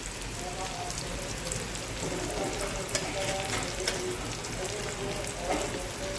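Onion, four cashews and ground spices such as coriander-cumin powder fry in a pan with a loud, dense, continuous sizzle and crackle, close up, while a spoon stirs now and then.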